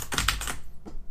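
A quick burst of keyboard typing, several close, crisp keystrokes in rapid succession, then a brief pause and a couple more taps.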